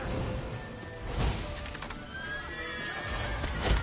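A horse neighs and whinnies in The Witcher 3: Wild Hunt, with clip-clopping hooves and game sound effects; loud and close, the whinny rising clearly over the busy background.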